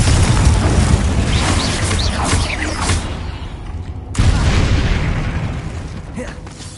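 A Confringo fire-blast spell in the video game Hogwarts Legacy bursts with loud, booming explosive rumbles, two heavy blasts a few seconds apart, each fading under crackling debris.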